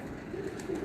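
Soft cooing from pigeons kept for flying, a brief, low murmuring coo in a quiet setting, with no voices.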